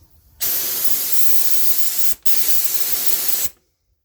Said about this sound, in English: the difference between a rattle can and an HVLP gun